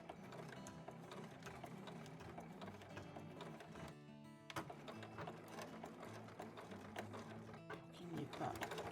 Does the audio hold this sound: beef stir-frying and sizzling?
no